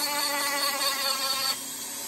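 Small power carving tool shaping and rounding the tail of a wooden otter carving, a close high whirring grind with a tonal whine that cuts off abruptly, leaving a lower hum.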